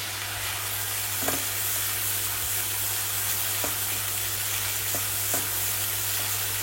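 Steady, dense frying sizzle of onion paste in hot oil, continuous and close, with a few faint clinks of a utensil against the pan.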